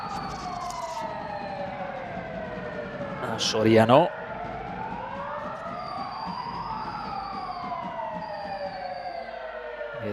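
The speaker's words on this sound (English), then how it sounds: "Hear the sirens going off there." Wailing emergency sirens sweep up and down at a steady distance, drifting through an indoor seven-a-side football match with commentators talking over them and a brief burst of crowd noise midway.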